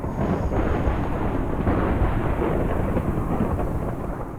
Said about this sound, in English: This was loud, rolling thunder, which could only mean one thing: storm.